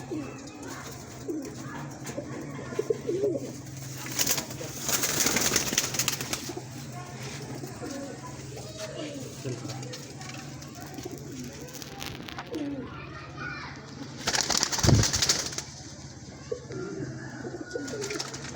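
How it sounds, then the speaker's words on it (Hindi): Domestic Badam Sera pigeons, a fine breed kept at a home loft in Islamabad, coo softly and repeatedly throughout, with a couple of louder bursts and wing movement, near the microphone and under no talk. "ये इनके घर का बादाम सेरा कबूतर है"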